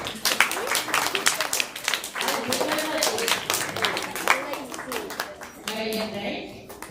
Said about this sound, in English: So clap one more time for Prajna.